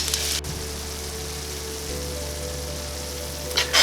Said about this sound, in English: Once your butter is fully melted, add in your white onions.